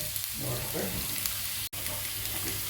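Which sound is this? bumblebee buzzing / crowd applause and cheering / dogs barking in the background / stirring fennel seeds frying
stirring fennel seeds frying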